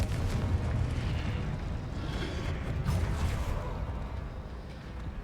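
A Confringo spell explosion in the Hogwarts Legacy video game, a dense, loud rumbling blast that swells and rolls on for several seconds with a second surge midway, then slowly fades, with no talk.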